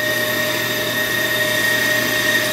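A brake lathe runs with its cutting head scraping a brake rotor, a steady mechanical whine with fixed high tones over a constant low hum, close and unbroken.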